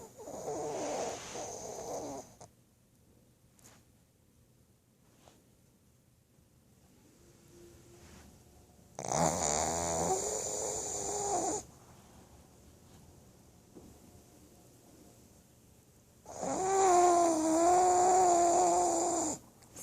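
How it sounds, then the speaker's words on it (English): A pug dog snores loudly in its sleep, three long rasping snores a few seconds apart with quiet breathing gaps between them, close and alone with no talking. "you're snoring really loud"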